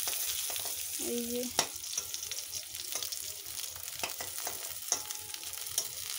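Food frying in a pan until it turns brown over a lowered gas flame, heard as a continuous close sizzle with occasional stirring scrapes and clicks; a voice speaks briefly.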